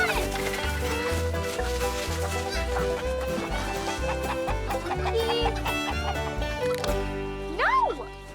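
Chickens cluck and squawk against loud, rhythmic background music, with one rising and falling squawk near the end.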